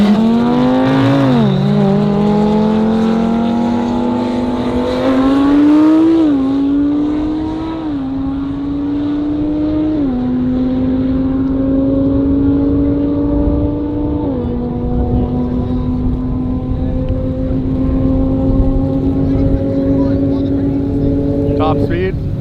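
A Toyota Supra and a Lamborghini Huracan drag race down a half-mile airstrip, engines loudly revving and climbing through repeated gear shifts, a continuous roar that holds steady after the last shift, with voices over it.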